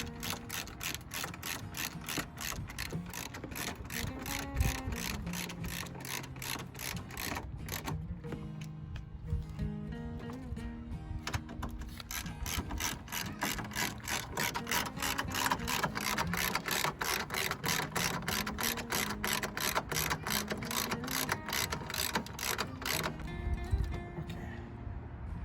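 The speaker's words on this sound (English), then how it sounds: "we torque these 10mm bolts here" A ratchet clicks rapidly and steadily while torquing 10mm headlight bolts on a Chrysler Town and Country, the close metallic ticking running in long bursts with a brief pause partway through.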